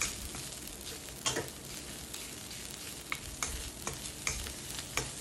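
Shrimp paste and curry paste being stir-fried for a pork and stink bean stir-fry, with a loud, constant sizzle broken by regular scraping strokes of a spatula against the pan.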